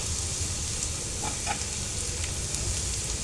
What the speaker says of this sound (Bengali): অর্ধেকটার মধ্যে সজনা পাতাটা দিয়ে দেব। দিয়ে একটু ভেজে নেব তেলের মধ্যে